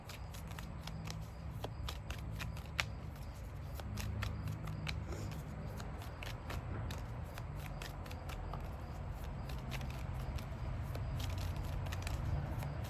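White light oracle cards are shuffled in hand: a continuous, close riffling and flicking with rapid crisp snaps repeating evenly the whole time, at a steady moderate level.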